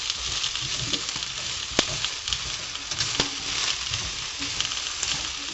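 Carrots, parsnip and beetroot fry in a pan with a steady close sizzle and crackle, broken by a few sharp clicks and light stirring knocks, with no talk.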